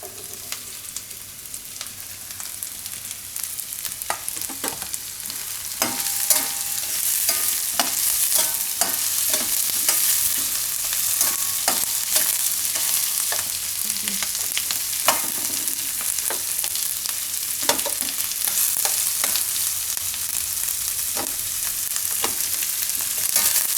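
Onion and capsicum fry in a pan as a spatula stirs them, with a steady sizzle broken by repeated scraping clicks and knocks over about twenty seconds and no speech.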